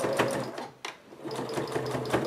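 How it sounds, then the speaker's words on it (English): A sewing machine runs in quick whirring bursts while stitching the sides of a fabric clutch bag used as a coupon or money holder, with a brief pause in the middle and the motor humming throughout. "now I'm just going to sew the sides of my coupon organizer or money holder"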